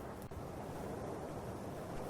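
Steady broadband wash of ocean waves and surf in ARK: Survival Evolved, continuous and fairly quiet with a faint wind-like hiss and no voices.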